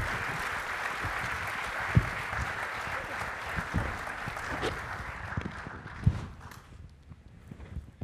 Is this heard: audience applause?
yes